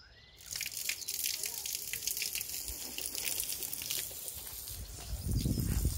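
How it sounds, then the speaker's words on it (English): Water rushes steadily from a hose after a brief quiet start, a continuous hiss that swells louder near the end. "Just gonna put the water on."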